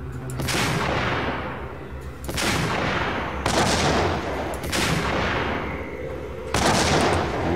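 Heavy gunshots in the video game Max Payne boom out in a slow series of about five loud blasts, each trailing off in a long echoing decay before the next.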